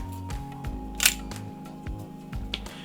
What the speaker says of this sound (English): Here's an audio clip of what it sounds like.